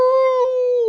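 A creature lets out a single sustained, clear, tonal howl, loud and steady throughout without breaks or accompanying talk.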